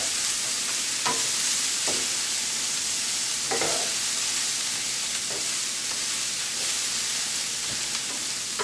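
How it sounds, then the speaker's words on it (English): Pineapple fried rice with chicken and vegetables stir-fried in a hot pan, a steady loud sizzle with scraping stirs and occasional utensil knocks throughout. "Just mixing it up, working it in, working the pineapple flavor in."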